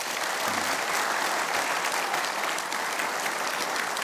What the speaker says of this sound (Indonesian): Tepuk tangan untuk Bang Yos.